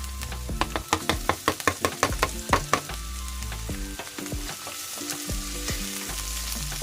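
Garlic and green chili frying in a pan for squid adobo, with a steady close sizzle and a burst of clattering stirring strokes early on before the frying settles into a continuous hiss.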